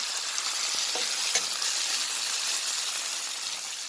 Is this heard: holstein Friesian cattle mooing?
no